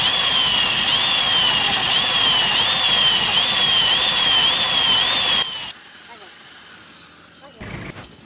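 A hand drill bores into a broken, stripped bolt with a loud, continuous high whine and slight rhythmic wavering, then stops abruptly and leaves a quieter tail.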